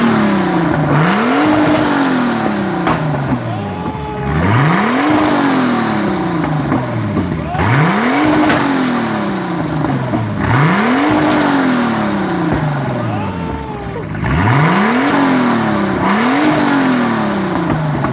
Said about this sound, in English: You just rev and then let off and it'll shoot flames.